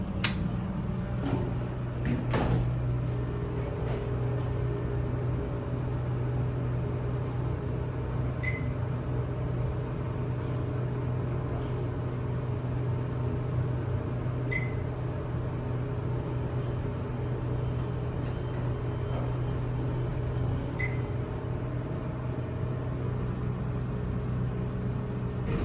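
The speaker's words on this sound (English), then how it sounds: "Love the motor. Older Dover impulse." An older Dover impulse hydraulic elevator motor at the Yancey building hums in a low, steady drone with broadband whir, punctuated by a few faint, evenly spaced high beeps and some clunks near the start, with no talking.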